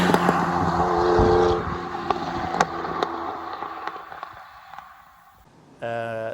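Lamborghini Diablo SV V12 engine roaring loudly, then easing off into a lower rumble with sharp pops and crackles, ending in a brief rev burst; no speech.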